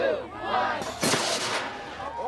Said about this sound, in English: Or maybe you just want to see a pumpkin blasted out of Knapp's pumpkin cannon.